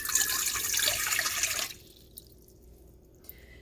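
Water pours briskly into a bowl for baguette dough, a bright splashing stream for about a second and a half that stops abruptly, followed by a few faint drips and quiet room tone.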